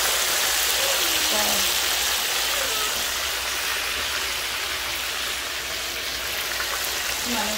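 Red snapper sizzling as it fries in a pan for a Guyanese-style stew, a steady, dense crackling hiss that fills the whole stretch with only slight changes in loudness.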